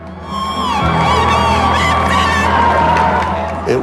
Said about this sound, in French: on a entendu les hurrahs de la foule à l'extérieur